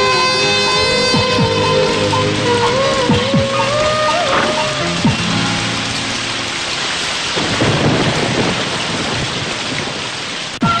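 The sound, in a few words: rain falling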